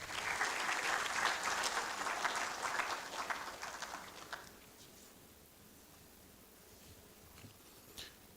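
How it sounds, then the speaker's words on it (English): An audience at an academic anniversary conference's opening ceremony applauds as a Catholic priest comes forward to give the opening prayer. The clapping is moderate, fades after about four seconds, and leaves quiet room tone with a faint stray sound near the end. "As he comes, a round of applause"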